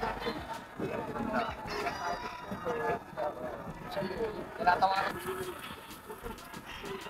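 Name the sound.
gamefowl roosters at a poultry market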